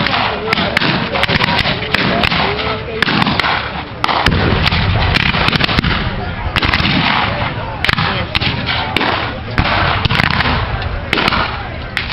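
Repeated sharp pistol shots from cavalrymen firing period round-ball pistols crack out irregularly at a Civil War Gettysburg reenactment over a noisy outdoor crowd, with booming thumps and shouting voices underneath.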